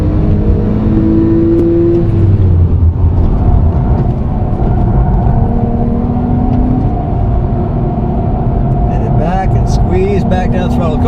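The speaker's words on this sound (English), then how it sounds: "This new PDK transmission, you can feel how hard it shifts when you're in the Sport Plus mode." A Porsche 911 with PDK transmission in Sport Plus mode, its engine droning loud and close from the cabin as quick hard gear changes step the pitch, with a voice talking over it.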